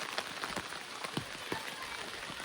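Light rain patters steadily on a forest trail toward the Emerald Pool in Krabi, Thailand, likely onto an open umbrella, with scattered close drop taps over a soft, continuous hiss.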